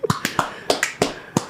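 Sharp percussive hand claps in an irregular sequence of about ten, close and alone without talk, crisp transients like snaps or claps on a podcast set.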